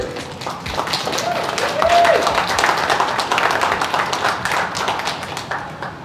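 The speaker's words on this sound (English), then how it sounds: "let's have a big round of applause for Ember Berg" An audience at a business marketing event in Minneapolis applauds a speaker, a sustained round of clapping with a voice briefly audible over it.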